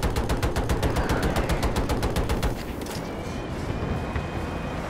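A rapid, evenly spaced burst of gunfire from Battlefield 2042 rattles loudly for a couple of seconds, then gives way to quieter battlefield ambience.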